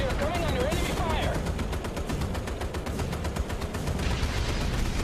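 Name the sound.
AA guns firing in the video game Battlestations Midway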